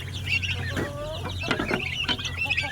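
Turkey poults and a chicken chick cluck and peep in a pen, a busy run of short, close calls over steady low background hum.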